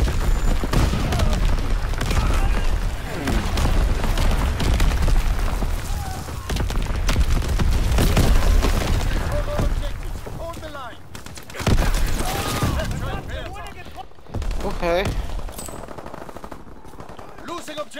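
Call of Duty WWII battle: sustained machine-gun bursts and rifle fire crackle over deep booms of artillery in a loud, chaotic firefight. Radio-style voices talk over the shooting in places, and the din thins out toward the end.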